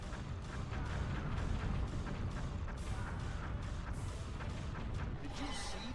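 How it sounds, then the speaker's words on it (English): Explosions and heavy booms rumble at a base under attack in the GameCube game Dino Rangers, a dense, continuous blast of low-end noise with repeated sharp bursts across the whole stretch. "Did you see that explosion?"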